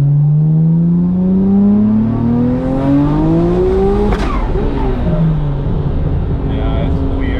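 Nissan R34 GTR engine revving hard through a full-throttle pull, loud and close, its pitch climbing steadily with harmonic layers before a shift around the midpoint; occupants talk over the engine.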